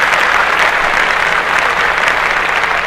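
Steady, loud applause from a crowd, a dense even wash of many hands clapping without a break, close and unbroken by voices.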